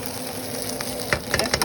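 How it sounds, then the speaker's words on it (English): Onions, fresh garlic and green onion sautéing in a hot pan, a low steady sizzle with a few sharp scraping stirs near the end, close and moderately loud. "That's some sauteed onion, fresh garlic, green onion."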